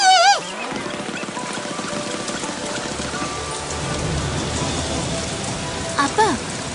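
Heavy rain pours down steadily on a slope near a valley stream, a dense continuous hiss close by, with a brief tonal effect at the start and near the end.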